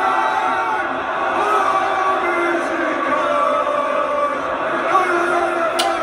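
A Turkish football ultras crowd roars in a steady, dense wall of cheering and chanting, loud and continuous throughout with no breaks.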